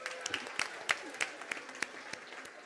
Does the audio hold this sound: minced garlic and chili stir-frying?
no